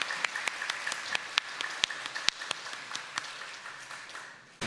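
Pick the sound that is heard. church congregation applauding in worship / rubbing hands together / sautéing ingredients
church congregation applauding in worship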